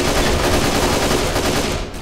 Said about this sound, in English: This shotgun's just too good.